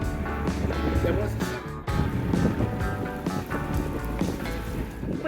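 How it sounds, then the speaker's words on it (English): Wind buffets the microphone on a narrowboat cruising a canal, a steady loud low rumble with gusty swells that briefly drops out before resuming, no talk heard. "Hopefully we're not getting too much wind noise."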